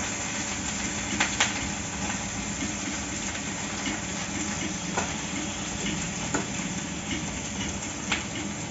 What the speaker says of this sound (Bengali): সবজি ঢেলে দিচ্ছি।